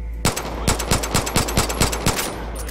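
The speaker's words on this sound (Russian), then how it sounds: "Давайте попробуем из пистолета захерачить сразу двоих, и чтобы они не убили этого чувака." Pistol shots ring out in Far Cry 5, about ten sharp, loud reports fired in a rapid, fairly steady sequence over a constant low background hum.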